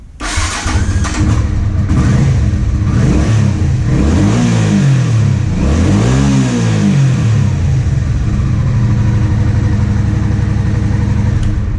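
A 1984 Honda Shadow 500 motorcycle cranks and fires up, then its engine revs up and down several times in rising and falling sweeps before settling to a steady, loud idle close by.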